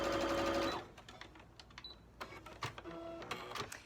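A sewing machine stitching a quilting strip set runs fast in a brief whirring burst, then gives way to quieter clicks and fabric handling before a second, softer stretch of motor hum.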